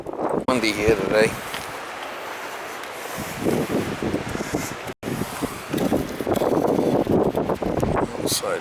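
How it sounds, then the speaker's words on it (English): Gusty wind at a summer cottage buffets the microphone in loud rumbling bursts, easing and returning in waves over several seconds. "Windy here today."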